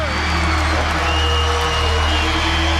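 A basketball arena crowd roars steadily for Kobe Bryant at a Lakers game, a dense sustained wash of cheering and applause with a commentator talking over it.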